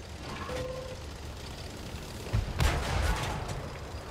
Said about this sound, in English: Artillery's still trying to hit me.